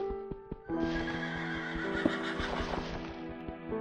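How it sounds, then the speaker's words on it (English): In the Minecraft video game, a horse gives a shrill whinny over steady background music with rhythmic clip-clop footsteps, all at a moderate level with no voices. "I can hear my horse whinnying."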